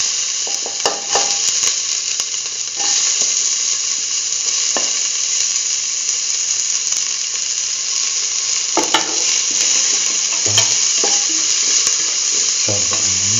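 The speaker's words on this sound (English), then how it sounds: "Now put in the onion pieces." Onion pieces frying in a pot for a Hausa potato and soya chunk stew: a loud, continuous hiss and crackle of sizzling oil throughout, with occasional clinks of a utensil against the pot.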